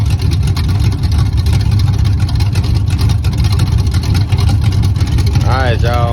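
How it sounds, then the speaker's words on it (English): A cammed small-block Chevy 350 V8 in a boxy Chevy car idles and runs loud and close, with a steady, heavy, choppy rumble throughout and some brief background sounds near the end. "Motor run damn good."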